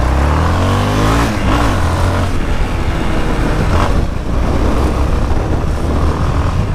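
A Yamaha XT660 motorcycle accelerating hard on the road, a loud engine roar rising in pitch through the gears with brief shifts, close and continuous throughout.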